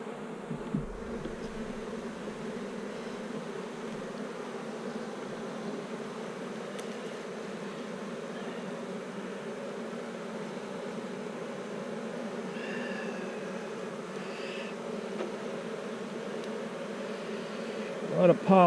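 Honey bees drone steadily around hive frames in intense heat, a dense, even, close buzzing that holds for the whole stretch, with an occasional nearer bee passing by.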